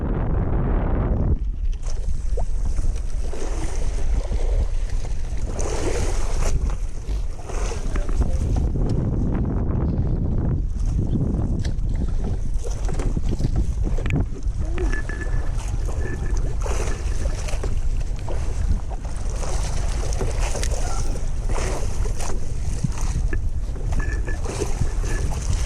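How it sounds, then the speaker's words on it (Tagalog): Waves slosh and wash around a small fishing boat off Tanza and Naic, Cavite, under steady wind noise buffeting the microphone, continuous and close. "Alon."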